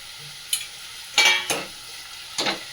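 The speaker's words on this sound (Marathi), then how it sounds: "कांदा, टोमॅटो, बटाटा तेलावर चांगलं सगळं परतवून घेणार." Onion, tomato and potato sautéing in oil, with a steady low sizzle broken by four scraping stirs of a spoon against the pan, close and fairly loud, no voices.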